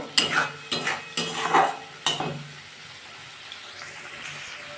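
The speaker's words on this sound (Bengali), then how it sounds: "আমি এটা ভালো করে কষে নেবো" Spinach and cut rohu-style fish curry being stirred and fried in a pan, with several sharp utensil scrapes and clinks in the first two seconds, then fading to a soft, quiet sizzle.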